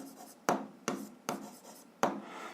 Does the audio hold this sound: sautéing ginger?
no